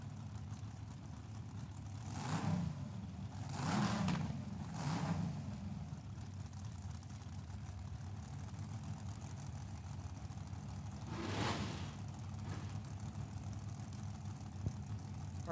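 Drag racing cars at Tucson Dragway, a Camaro and a dragster, give a steady distant engine drone with three loud passing bursts early on and another swell later, without talk.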